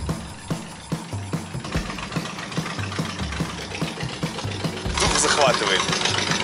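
A rented Harley-Davidson motorcycle idles early in the morning while it warms up, giving a low, loping engine rumble with steady pulses. A person speaks briefly over it, and the noise swells louder near the end.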